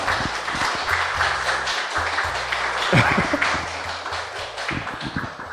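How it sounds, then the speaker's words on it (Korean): An audience applauds as a poet is invited to the front at a Korean literary talk event, steady clapping filling the room with a few sharper claps standing out near the mic. "박수 부탁드립니다."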